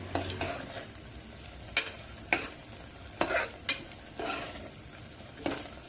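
Masala for tomato bath frying in a pan while a spoon stirs it, giving soft sizzling broken by several sharp scrapes and knocks of the spoon against the pan, close by with no talking.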